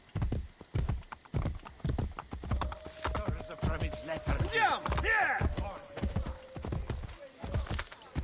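A horse's hooves clip-clop in a steady trotting rhythm in the Assassin's Creed Brotherhood video game, close and continuous, with someone talking over them throughout.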